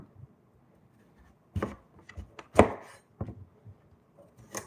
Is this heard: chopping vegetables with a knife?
yes